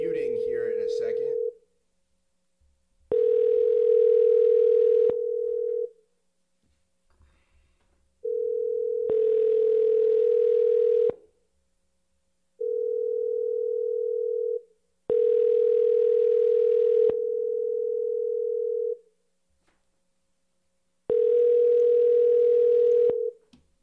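A telephone dial tone comes through in repeated pulses, about five or six tones of a few seconds each separated by silent gaps, while a cold call is placed for real estate wholesaling. A short burst of voice opens the clip.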